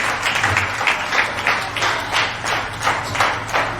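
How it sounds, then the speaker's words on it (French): A church congregation applauding during a French-language sermon, dense rhythmic clapping from many hands in waves, loud and close, with no speech over it. "Acclame pour le Saint-Esprit."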